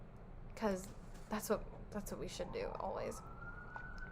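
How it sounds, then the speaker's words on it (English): Sirens pass outside, a faint rising wail that emerges under a woman's speech and carries on steadily after she stops, distant and soft in a quiet room. "Sorry about the sirens."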